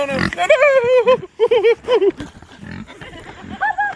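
Kunekune pigs grunt and squeal in a string of short, tonal, wavering calls separated by brief gaps, close and fairly loud, with some soft background noise between the vocalizations.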